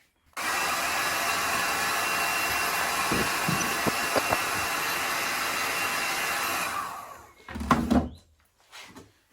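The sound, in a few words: heat gun heating wheel hub to fit new bearing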